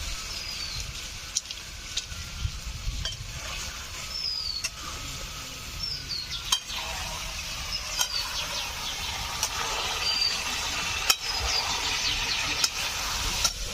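Tomatoes sauté in a pan for chicken curry, giving a steady hiss and crackle with occasional sharp ticks and stirring scrapes. The sound stays close and moderate throughout.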